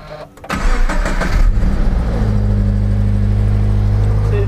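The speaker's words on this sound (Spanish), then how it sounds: "Para ello bajamos el coche y le dimos la primera arrancada." A car engine with a modified exhaust cranks briefly, catches and settles into a loud, steady, deep idle, close by.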